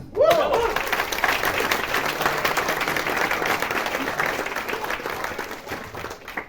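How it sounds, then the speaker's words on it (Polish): An audience at a music workshop opening event breaks into sustained, dense applause that holds steady, loud and close, for several seconds, with no speech over it. "Brawa na jego organizację."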